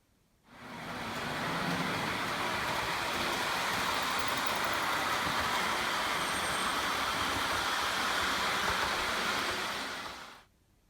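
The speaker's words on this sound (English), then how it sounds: "we'll have a look at some trains being tested up and down the incline" Model trains run on a layout incline between a fiddle yard and an upper level, giving a steady, even rumbling whir that starts abruptly, holds level for about ten seconds, then stops.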